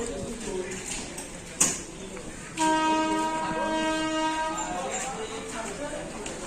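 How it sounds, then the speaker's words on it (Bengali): A Burimari Express train at a station sounds its horn in a long, loud, steady blast lasting nearly two seconds over platform background noise, with a sharp clunk just before it. "বুড়িমারি এক্সপ্রেস মনে হয় ওইটা"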